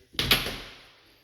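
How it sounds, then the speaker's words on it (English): A double-door kitchen pantry opens with a single quick thud and rattle that decays into a short room echo, close and fairly quiet. "In the kitchen here we have double door pantry"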